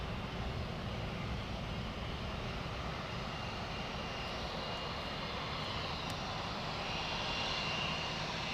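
Airliner jet engines roaring during takeoff at Heathrow Airport, a loud, sustained broadband rush that holds steady throughout with no voices.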